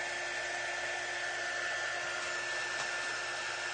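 A hair dryer blows steadily to dry several layers of paint on a craft piece, a constant close, even whooshing hum with no breaks.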